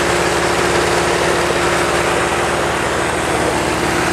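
Idling engine of a Geo Metro under the hood, a steady loud drone with a constant low hum, continuous and close with no variation throughout.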